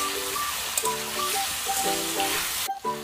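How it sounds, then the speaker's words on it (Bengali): Boiled ripe pumpkin pieces frying in hot oil in a pan, a steady close sizzle with soft bubbling crackle throughout and a brief stir near the end. "তেলে ভেজে নেব।"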